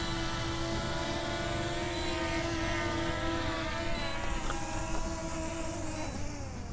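A Bwine F7 GB2 4K drone flying close by and coming in to land on a dusty floor, its propellers giving a steady, loud, tonal whine with layered harmonics that shifts slightly in pitch near the end.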